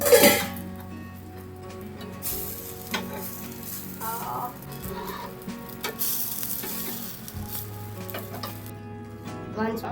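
Ponganalu (paniyaram) frying in oil in a pan, a continuous close sizzle with clinks and stirring scrapes, a few soft background sounds but no clear talk.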